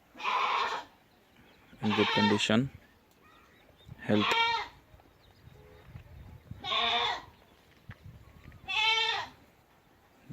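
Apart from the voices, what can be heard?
goats on a goat farm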